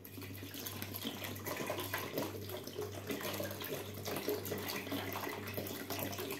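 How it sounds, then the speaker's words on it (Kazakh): Plain water poured into a large batch of homemade lemonade, a continuous rushing splash close by, with a low steady hum underneath. "Мына жерде суымды құямын."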